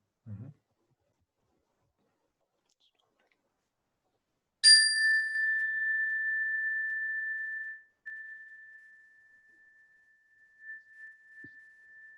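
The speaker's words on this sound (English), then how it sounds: "We'll start the practice at the sound of the chime." A meditation chime rings once for an awareness-of-breath practice, a clear sustained bell tone that slowly fades over several seconds in an otherwise silent room, with a faint low voice murmur at the very start.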